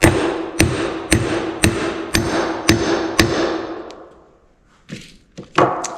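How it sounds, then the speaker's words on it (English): A bearing race on a Buffalo 6300 cultivator gauge wheel hub is hammered flat with a piece of flat stock: seven sharp, ringing metal strikes at an even pace, then a pause and a few more scattered knocks, close and loud. "Now I'm going to begin by driving this race flat first with a nice piece of flat stock."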